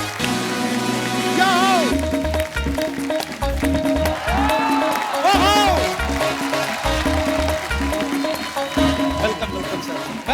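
A studio audience on The Kapil Sharma Show claps loudly to welcome Jitendra and Ekta Kapoor, a sustained patter of applause under a host's voice and music.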